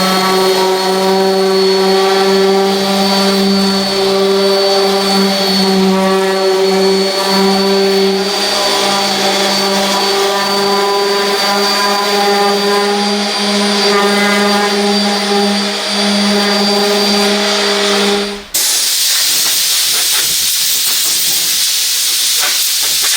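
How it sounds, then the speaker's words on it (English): Sanding a Scion tC car body panel with 80 grit sandpaper: a loud, steady droning whine with a hiss, breaking near the end into a rougher, broader scraping rush. "I have here 80 grit sandpaper, and I will start sanding this entire area"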